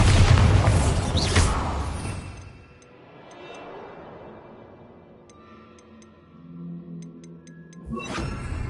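In the video game Hogwarts Legacy, the Bombarda blasting spell sets off a loud close explosion that rumbles and fades over a few seconds, followed by faint ticking and clicking before a second heavy blast near the end.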